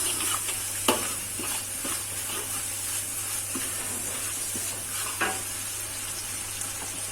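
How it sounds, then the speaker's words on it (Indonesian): Food frying in a pan with broth seasoning, stirred steadily: a continuous sizzle with scraping stir strokes and a couple of sharper clinks, close and alone. "Kita aduk terus"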